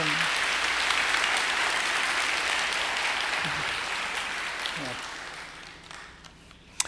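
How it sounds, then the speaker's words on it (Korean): Congregation at a church service giving a big round of applause to welcome a guest speaker: a broad wash of many hands clapping that slowly tapers off, with faint voices under it. "자, 그 마음으로 우리 큰 박수로 환영하도록 하겠습니다"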